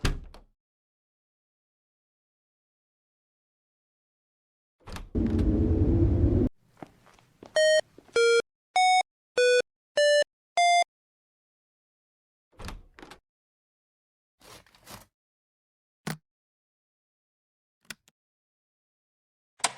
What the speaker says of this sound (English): I can hear the beeps from the keypad.